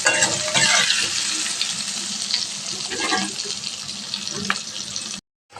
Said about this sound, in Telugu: ఆ ఆయిల్లోనే దుంపలను కూడా యాడ్ చేసుకుందాం. కొంచెం ఫ్రై అవ్వాలి దుంపలు.